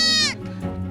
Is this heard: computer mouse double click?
no